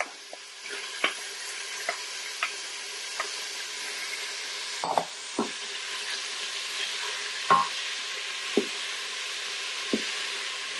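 Celery and onions sauté quietly in a pan for a potato soup, a soft sizzle underneath with regular light knocks and scrapes of a spoon stirring, spaced about a second apart.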